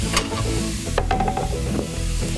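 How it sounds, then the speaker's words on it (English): Meat browns with onions in a hot pan, a loud, continuous close-up sizzle and crackle with a brief stirring scrape partway through. "we're gonna brown this up and then Put these onions in there to cook with it"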